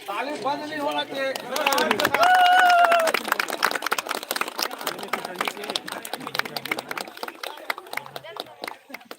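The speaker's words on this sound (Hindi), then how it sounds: "ताली बंद नहीं होना चाहिए।" An audience claps at a 2021 sports closing ceremony in Vijaynagar. A voice speaks over the start, then steady, crisp clapping continues.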